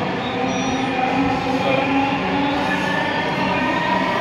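Dhaka Metro train running toward Uttara North station, a steady, loud interior rumble and whoosh of the moving carriage with a few faint squeals, continuous throughout.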